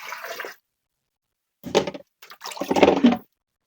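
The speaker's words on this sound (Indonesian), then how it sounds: "Ini tinggal dimasukin air. Direbus." About two liters of water splash into a cooking pot for boiling, heard as loud gushing pours in separate bursts with silent gaps between them.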